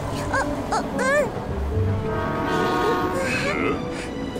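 A high-speed train in a Korean children's cartoon pulls in with a rising, horn-like call and a whooshing rush, under animated character voices.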